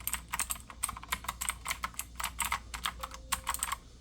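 Mechanical keyboard being typed on close up, quiet rapid bursts of irregular clicky keystrokes with brief pauses between runs.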